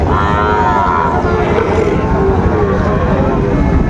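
Sahiwal cattle at a busy livestock market give a low, drawn-out moo, partly buried under steady crowd chatter and market din.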